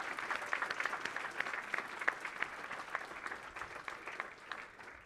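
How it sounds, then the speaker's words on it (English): A school finals event crowd gives steady applause, dense clapping that fills the room without pause and fades slightly at the end. "Let's give them a round of applause."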